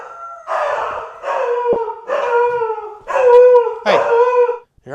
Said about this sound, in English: My dog is inside howling at some sirens.